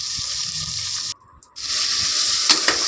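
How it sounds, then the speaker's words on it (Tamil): Vegetables for a vegetable biryani stirred in a pot, a steady close wet scraping and sizzling hiss that briefly cuts out, then resumes with a couple of sharp clicks near the end. "வெஜிடபிள்ஸ் போட்டாச்சுங்க போட்டாச்சு போட்டு நல்லா கிண்டினோம்னா"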